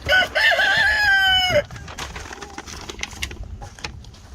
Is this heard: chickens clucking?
yes